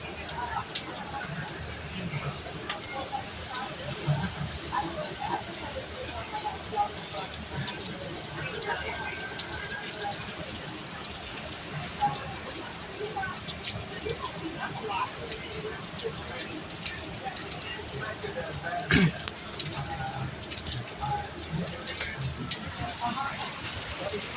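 Heavy rain pours steadily through a thunderstorm as the wind picks up, a dense continuous wash of drops with a few sharper splashes, while a person talks intermittently over it.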